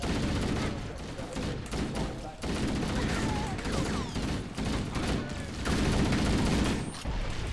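Steady bursts of gunfire from a weapon in Halo: Combat Evolved, dense and continuous throughout, with game battle noise layered underneath.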